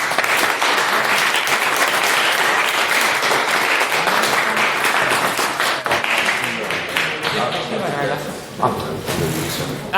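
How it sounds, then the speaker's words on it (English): A crowd at a literary society's annual general meeting applauds, with dense, sustained clapping that fills the room for several seconds before thinning out, as voices speak beneath it. "can we get a round of applause for..."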